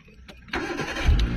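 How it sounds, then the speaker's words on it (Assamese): A second-hand car fitted with AC and power windows starts on the first try: the starter whirs briefly, then the engine catches and settles into a steady running rumble, close by. "গাড়ীখন আপোনালোকক ষ্টাৰ্ট কৰি দেখাম এতিয়া"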